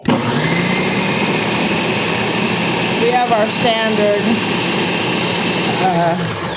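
A Ninja 9-cup food processor runs on its low setting, a loud, steady motor whir with a constant airy drone that holds throughout, while a person speaks over it.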